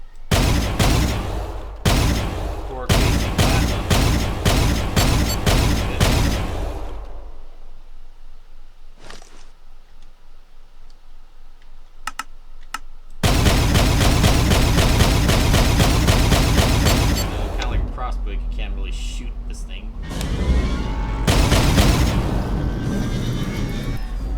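Bursts of plasma cannon fire from a frag medium plasma weapon in the space combat game Angels Fall First, loud rapid volleys in two long runs separated by a quieter lull with a few isolated shots.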